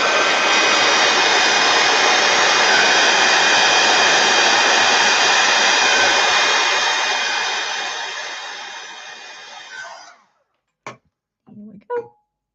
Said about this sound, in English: I'm using the heat tool to get these quickly dried.